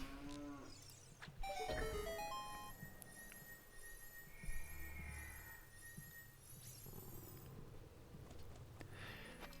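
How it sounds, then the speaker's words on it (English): A cow moos in the Ocarina of Time video game, a few low synthetic lows heard amid bright chiming game tones and whistling effects, with no talking. "Then you shoot a submerged cow in order to spawn a big chest next to you."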